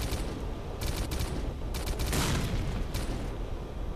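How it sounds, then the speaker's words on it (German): Sustained machine gun fire from an RPK in the shooter game S.T.A.L.K.E.R.: Clear Sky, a steady fusillade of rapid shots with louder bursts, filling the whole stretch without talk. "Ich höre ein MG, da läuft jemand in der RPK rum"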